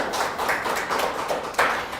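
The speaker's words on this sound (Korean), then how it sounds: "하나님께 영광의 박수로" Steady clapping from a church congregation during a Wednesday worship service, a dense run of hand claps lasting about two seconds at a moderate level.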